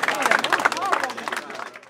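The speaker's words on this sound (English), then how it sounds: "y'all clap that up" Crowd at a battle rap event clapping in quick, uneven bursts with murmuring voices mixed in, moderately loud and close, tapering slightly toward the end.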